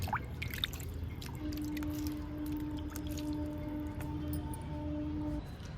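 Water is poured into small pots of plant cuttings, giving faint irregular drips and splashes over a low background with a thin steady hum, no talk.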